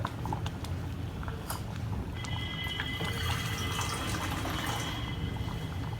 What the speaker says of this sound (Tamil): இன்னும் கொஞ்சம் தண்ணி சேர்த்துக்கணும்